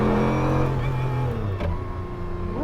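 Sports car, a McLaren F1 or Porsche 911 GT, accelerating hard in second gear, its engine note loud and close and rising steadily with a strong rumbling roar throughout.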